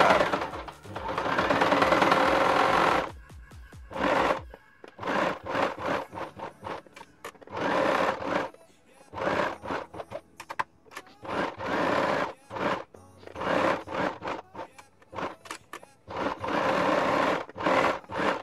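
A sewing machine top-stitches a fabric mermaid tail fin, starting with a long steady run, then continuing in short stop-start bursts of rapid needle chatter separated by brief pauses.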